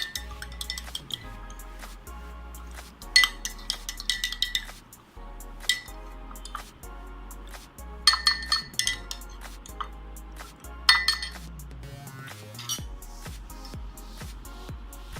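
A metal spoon stirring fresh fruit juice with salt in a glass gives repeated bright clinks and scrapes in uneven bursts, close and fairly loud, with brief pauses between rounds of mixing.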